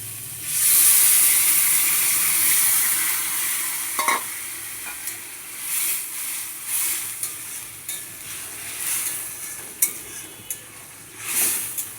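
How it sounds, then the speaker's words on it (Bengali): Hot stock from boiled vegetables hits frying vegetables in a pan with a loud sizzling rush, then settles into a softer simmering hiss punctuated by repeated spoon scrapes and clinks against the pan, with no voices. "গরম জলটা, সেদ্ধ সবজির জল এটা।"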